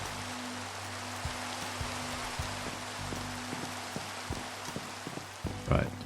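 Steady rain falls across a Minecraft skyblock modpack world, a soft continuous hiss with faint low tones and a brief louder burst near the end.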